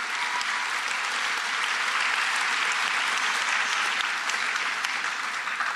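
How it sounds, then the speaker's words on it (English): Dense, loud applause from a large audience at a middle school promotion ceremony, continuous and even from start to finish with no voices over it. "Give your family a round of applause."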